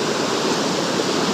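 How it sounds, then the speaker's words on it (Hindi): Mountain river in Arunachal Pradesh rushing steadily nearby, a loud, even wash of flowing water with no break. "तो ये रहा यहाँ पे है नदी, बिल्कुल फ्रेश पानी है ये"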